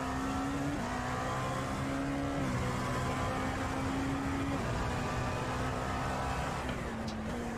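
LMP2 prototype race car engine at Imola in iRacing, revving high and steady with pitch steps as gears shift up and down, loud and continuous with no voices.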